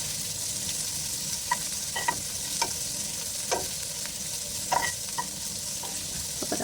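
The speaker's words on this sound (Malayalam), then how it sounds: "നമുക്ക് സവാളയ്ക്ക് ആവശ്യമായ ഉപ്പ് ചേർത്ത് കൊടുക്കാം അപ്പോൾ ഉപ്പ് കൂടിപ്പോവാതെ നോക്കാൻ ശ്രദ്ധിക്കുക എന്നിട്ട് നമുക്ക് ചെറുതായിട്ടൊന്ന് വഴറ്റി കൊടുക്കാം" Chopped onions with salt sauté in a pan, a steady soft sizzle broken by repeated sharp scrapes and taps of a spoon stirring at an uneven rhythm, close and without talk.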